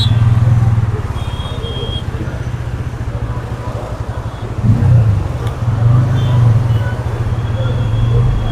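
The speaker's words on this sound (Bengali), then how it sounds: "ভাই আমার গাড়ি স্টার্ট করে দিয়েছে ফাইনালি" A motorcycle engine runs steadily after starting on an overbridge, a loud, close, continuous low rumble that swells briefly midway, with road traffic noise around it.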